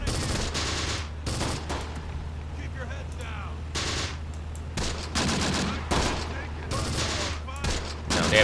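Rapid bursts of machine-gun fire from a German half-track armored vehicle in the WW2 North Africa strategy game Close Combat, sharp repeated volleys over a steady low engine rumble.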